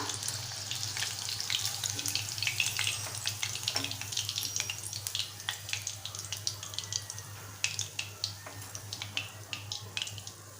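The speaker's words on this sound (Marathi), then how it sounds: "आता आपण याच पद्धतीने लॉलीपॉप तळून घेऊया।" Chicken lollipops fry in hot oil with a dense, steady crackle and bursts of popping and spitting that come and go over about ten seconds, close up and without voices.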